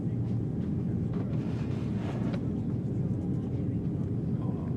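Steady airplane cabin noise during a flight: a dense, continuous low roar and rumble with a little airy hiss on top, unchanging throughout, with faint talk mixed underneath.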